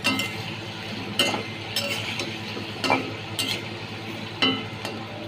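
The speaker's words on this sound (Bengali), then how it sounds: "আর এদিকে আমার আলুটা ধীরে ধীরে ফ্রাই হচ্ছে।" Potatoes slowly fry in a pan for mutton biryani under a steady soft sizzle, with a spoon stirring and scraping every second or so, near and with no talking.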